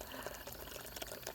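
A DIY bird bath fountain trickles faintly and continuously with soft splashing water, quiet and unbroken.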